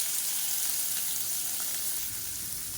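Mustard seeds, cumin, fenugreek, urad dal, curry leaves and chopped onion sizzle and crackle in hot oil, a steady close frying hiss for a South Indian chicken dry-chilli fry, with no talking.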